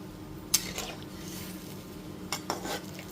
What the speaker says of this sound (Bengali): হালকা হাতে জলটা দিয়ে খুব ভালো মতো মিশিয়ে নিলাম।